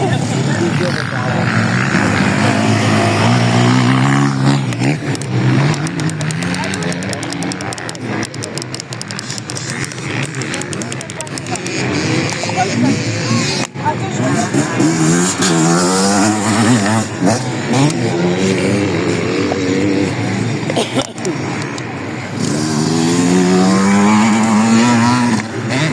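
A motorcycle engine revs and pulls through the gears during a regional endurance race at Cussac, the rising and falling engine note loud and close throughout, with a voice talking over it.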